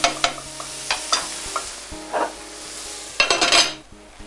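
Parsnips sizzling in a covered pan on a lowered heat, with a steady soft frying hiss broken by intermittent louder crackles and stirring clinks near the end.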